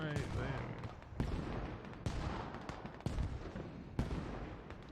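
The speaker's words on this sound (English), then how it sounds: "Where are the mortars coming from?" Distant mortar impacts and scattered gunfire in a Squad match on the Gorodok map, with several sharp booming hits spaced about a second apart over a steady rumble of battle, fairly faint overall.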